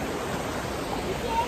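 Waterfalls pouring by a village river in rain, a constant broad rushing roar of falling water, close and steady without a break.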